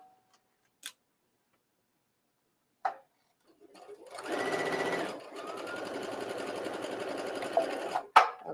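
Sewing machine stitching fabric, a long continuous run of fast even stitching lasting several seconds, preceded by brief isolated clicks, with no talking.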